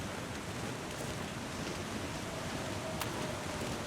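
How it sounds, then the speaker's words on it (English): Steady, broadband wind rushes continuously in the video game The Long Dark, a full, roaring whoosh with no pauses or voices. "now it sounds like it's getting really windy"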